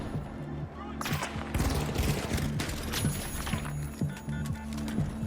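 Medium-class weapon in The Finals firing a series of shots with rhythmic reports under a steady game background bed, fairly loud and up close.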